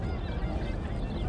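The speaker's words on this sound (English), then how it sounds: "Those are geese." Geese honking in Central Park, New York, a steady overlapping chorus of calls over broadband outdoor park noise, moderately close and continuous throughout.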